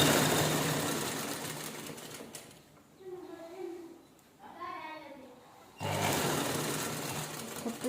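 A sewing machine stitches a saree cover made from leftover blouse pieces, running in steady whirring bursts at the start and again at the end, with a quieter pause in between where a voice is heard.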